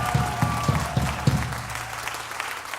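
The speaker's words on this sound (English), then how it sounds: "big round of applause to Shalom up there?" An audience claps for the sound engineer at an Eddie Owen Presents concert venue, with a few sharp accented claps early on, then dwindling scattered applause amid faint crowd murmur.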